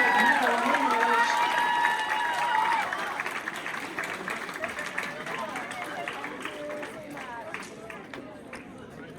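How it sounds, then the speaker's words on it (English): A school crowd at a math league tournament claps and cheers, with whoops and shouting voices over dense applause that stays strong, then fades into scattered clapping and chatter. "please give a round of applause for your assembled 6th grade gold medal winners"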